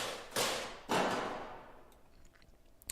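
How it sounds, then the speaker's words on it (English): Loud abrasive crashes from a trailer percussion sample library, two heavy noisy hits in quick succession, each decaying into a long fading tail, with faint scattered clicks at the end. "And up here we have the really loud abrasive crashes."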